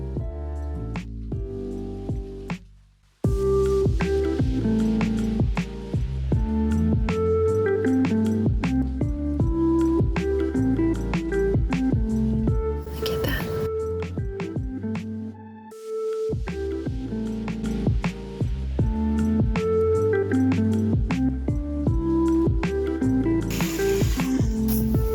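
A hot shower running: a long, steady hissing spray of water with brief breaks, and tonal sounds layered over it.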